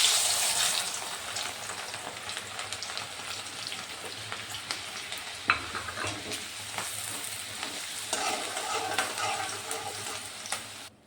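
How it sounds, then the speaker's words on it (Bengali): Chanachur ingredients deep-frying in hot oil give a steady, fairly faint bubbling hiss that stays even throughout, with a few small pops and no voices. "এইভাবে আমি সবগুলো এখন ভেজে ফেলবো।"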